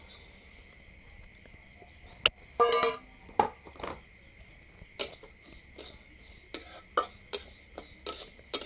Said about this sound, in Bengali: নাড়ু করার জন্য তিলটা ভেজে নিচ্ছি।